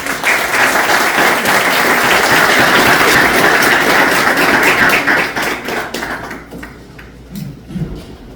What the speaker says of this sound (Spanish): Les pido un fuerte aplauso para él.